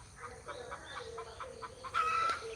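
Farm chickens clucking in short repeated bursts, followed by a rooster's brief crow near the end, moderately close against faint background noise.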